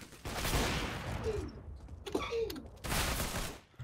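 Bursts of video game gunfire from an MG1, two loud rattling stretches separated by a quieter gap with a few mechanical clicks and a voice.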